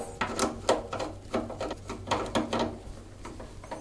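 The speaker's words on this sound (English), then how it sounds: "taking our cross-headed screwdriver, we're going to remove the two screws so we can put the card in." A cross-head screwdriver is backing out graphics card bracket screws inside a PC case, heard as close, faint, irregular ticks and scrapes in short bursts.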